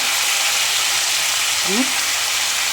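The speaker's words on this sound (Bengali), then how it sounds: "এখন একটু ভেজে নেব।" Fish frying in a pan of oil with turmeric and cumin powder, a steady broadband sizzle running close and even throughout, briefly interrupted by a short tonal chirp.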